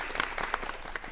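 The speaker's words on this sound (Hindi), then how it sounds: "बार तालियां बजा दे वीनस जी के लिए" Brief applause from an audience at a Women's Day programme, honouring a woman named Venus; dense, steady clapping at moderate level with a few sharper claps standing out.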